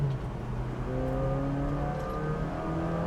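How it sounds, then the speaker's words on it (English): A 1999 kei truck's small engine revs steadily as the truck pulls away uphill in second gear, a smooth, rising drone with climbing harmonics, moderately quiet and heard from inside the cab. "Nice and quiet, smooth running, smooth revving little engine."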